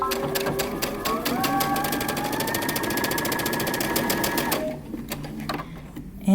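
A sewing machine back-stitches a dress seam, its needle chattering in a fast, even rhythm for several seconds before stopping, followed by faint handling sounds.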